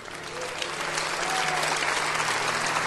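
Church congregation applauding after a sermon, a dense, steady clapping that fills the space from start to finish with a faint crowd murmur beneath.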